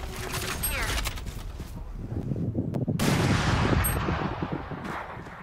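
Gunfire in a tactical shooter video game, several sharp loud shots and bursts over busy game noise and mechanical clatter, with players talking at times.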